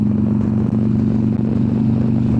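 A 2015 Harley-Davidson Street Glide motorcycle cruises with a steady, loud, low engine rumble and faint wind, heard close from the rider's position.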